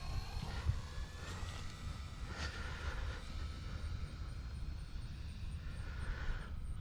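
An E-flite Air Tractor RC airplane makes a low-throttle flyby, its electric motor a steady whirring drone with a soft rise and fall, heard from a moderate distance outdoors.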